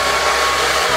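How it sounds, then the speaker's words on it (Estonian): Close, loud hair dryer blowing hair dry, a steady unbroken roar with a low motor hum beneath. "Ma proovin fööniga vähe kuivatada, et äkki läheb kiiremini."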